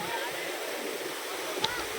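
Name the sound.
Anantagiri waterfall in Araku valley, flowing water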